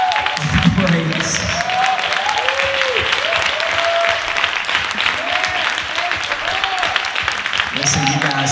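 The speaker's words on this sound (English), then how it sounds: "Give God a hand clap of praise." A church congregation applauding, sustained clapping throughout with a voice speaking over it and the applause continuing to the end.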